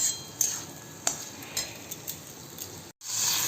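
Chicken going into a pot for a home-style desi chicken curry: a steady soft sizzle with several sharp metallic clinks and taps of a utensil against the pot, close and fairly quiet.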